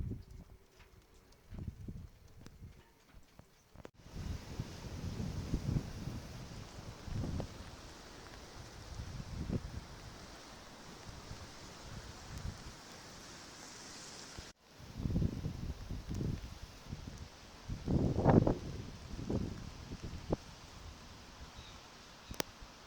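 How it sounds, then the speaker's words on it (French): Storm wind gusting through a sheltered harbour anchorage off Palma, Majorca, with broad rushing surges that swell and fade in waves, the gusts growing stronger toward the end, alone without talk. "C'est des rafales. Ça commence par les rafales avant le vent soutenu."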